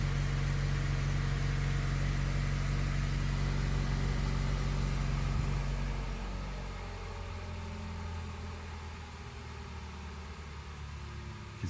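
The 2.5-liter engine of a 2023 Mazda 3 sedan idles after startup with a steady low hum that drops to a quieter, lower idle about halfway through as the revs settle, close and continuous.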